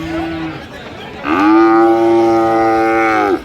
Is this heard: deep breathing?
no